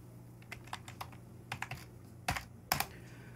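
Bursts of keystrokes on a computer keyboard, close and fairly quiet, in short irregular clusters with two sharper, louder taps near the end; no talking.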